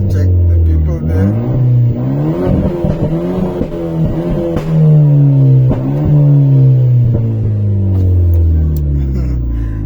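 A Renault Clio RS with a 1.6 engine and downpipe exhaust revs hard and repeatedly, the loud engine note rising and falling in close, aggressive sweeps with people cheering faintly around it.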